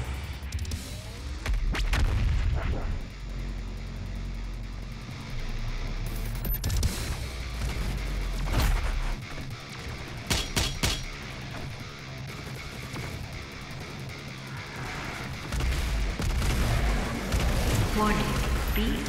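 DOOM Eternal's BFG 10,000 cannon charging and firing, with long heavy rumbling booms and scattered sharp blasts under a droning game background. A synthetic announcer voice is also heard.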